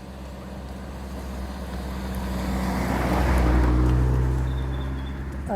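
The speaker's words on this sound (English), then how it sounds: "And there's a car coming, so I'm going to pull in." A car approaches along a narrow countryside path, its engine and tyre rumble swelling to a peak as it passes close by, then fading as it moves away.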